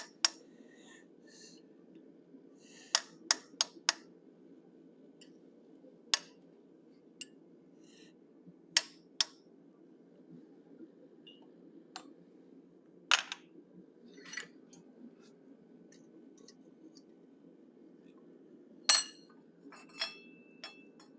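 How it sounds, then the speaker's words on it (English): A straight-cut chisel is struck while cutting a line up the center of a forged animal snout, sparse sharp metallic taps scattered irregularly over a quiet, low background hum. "Using a straight cut chisel, I'm going to cut a line up the center of the snout"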